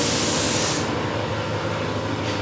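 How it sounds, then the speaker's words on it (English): A spray gun lays base coat paint onto the door jambs of a 2004 Ford, giving a loud, steady hiss that cuts off partway through and briefly resumes near the end. "So Sean is spraying on the base coat right now, which is the color"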